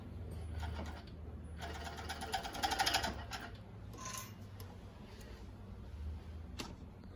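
A Jack W4 cover stitch sewing machine sews Lycra with a quiet mechanical whir, a brief louder burst of rapid stitching near the middle, then soft clicks over a low background hum.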